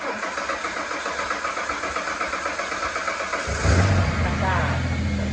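A Ranger utility vehicle that sat unused for nine months cranks with a rapid rhythmic starter chatter for over three seconds, then catches and settles into a loud, steady idle close by.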